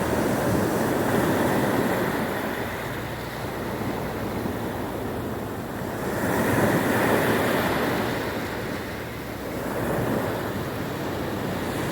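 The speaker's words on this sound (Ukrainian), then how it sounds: "Заплющіть, будь ласка, очі і послухайте музику моря." Ocean waves roll in and wash over the shore in slow, swelling surges, a continuous broad rush with no voices.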